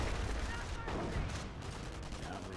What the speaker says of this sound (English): Couple more stun grenades there.